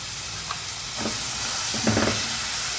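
Finely chopped small onion frying in margarine or butter in a pan, a steady loud sizzle with occasional stirring scrapes.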